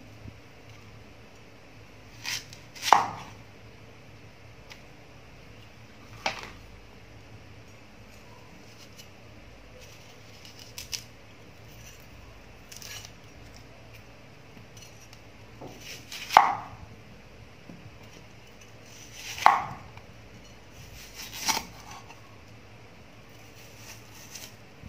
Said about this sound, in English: and then we cut onion.